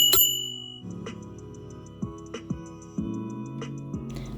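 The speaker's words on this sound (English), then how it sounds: "don't forget the bell" A small bell rings several times in a quick, uneven series of bright metallic dings, close by, over a low steady hum.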